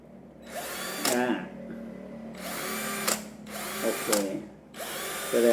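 Stanley cordless drill whirs in four separate bursts with short pauses between, each spin rising and ending with a higher whine, fairly close and clear over a faint background.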